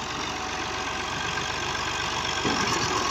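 A Fiat 450 tractor engine idles close by with a low, even rumble and continuous chugging, unchanging throughout with no talking.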